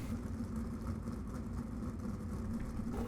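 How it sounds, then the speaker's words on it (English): Winged 410 sprint cars rolling onto a dirt racetrack at USA Speedway, a steady low engine drone with a mid-pitched tone that holds evenly throughout, fairly loud and continuous with no talk. "Heat number 1 cars making their way onto the racetrack right now"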